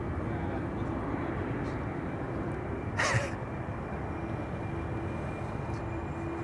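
An Embraer 190 airliner rotates for takeoff at Amsterdam Schiphol Airport, producing a steady, broad roar that holds throughout, with one brief sharp click partway through.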